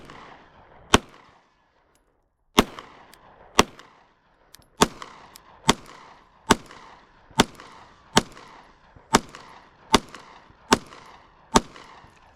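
A Glock 43X pistol fires test shots, about a dozen sharp, loud reports in a steady, evenly spaced rhythm after an opening shot and a brief silent pause.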